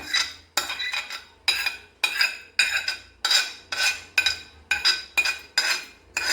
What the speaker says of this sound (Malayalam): ഇനി നമ്മൾ ഇതിനകത്തോട് ഇതും കൂടെ മിക്സ് ചെയ്ത് കൊടുക്കാൻ പോവാം